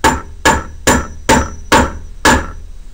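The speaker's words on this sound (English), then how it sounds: "bringing the hammer straight down" Six sharp hammer blows land straight down on a jeans rivet at a steady, unhurried pace, each a loud metallic strike with a short ringing tail, close up and without talk.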